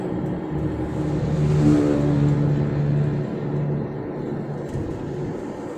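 A vehicle speeds past on a road, its engine note rising to a peak and then fading as it moves away; a motorcycle passing fast, heard close without any talk.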